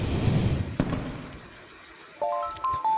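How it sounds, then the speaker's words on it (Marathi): Firecrackers bursting in a bus simulator video game, with a sharp crack near the start followed by fading crackle, then clean electronic tones from the game. "बस काय माझ्या फटाके फोडतात का तुम्ही?"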